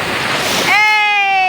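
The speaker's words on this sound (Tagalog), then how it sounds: "Ang lakas kasi ng alon." Strong sea waves rushing in at a beach in Pangasinan, a loud broad wash of surf that gives way to a sustained tonal hum in the second half.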